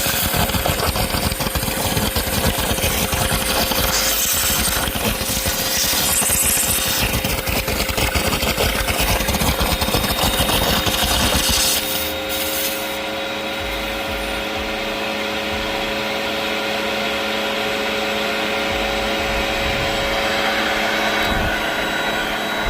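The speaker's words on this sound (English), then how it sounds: "I can already hear the suction." Under a 2025 Toyota Prius LE, an oil extraction vacuum drones steadily and loudly with a rough rattling texture, then shifts to a smoother, quieter humming suction partway through.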